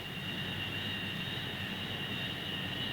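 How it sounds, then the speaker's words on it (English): Skyhawk jets approaching to land on the aircraft carrier Melbourne as it speeds into the wind, a steady, distant roar of engine and wind noise with a faint whine, no talk. "First come the Skyhawks, roaring down to the stern as Melbourne speeds into the wind"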